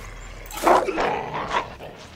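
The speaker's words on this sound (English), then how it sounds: "There's a dog." A dog barks in a survival horror video game, two or three short close barks spread over about two seconds against a quiet background.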